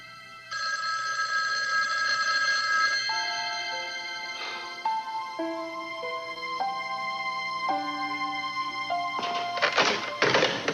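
An old-style telephone bell rings on and on, loud and unanswered, its repeated bursts mixed with a few dull thunks and a tonal melody, and no voices are heard.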